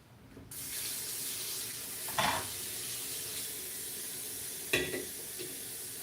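A kitchen tap runs steadily to fill a glass of water, a close, even rushing stream that starts abruptly and continues for several seconds, with a couple of brief louder splashes and clinks and no talking.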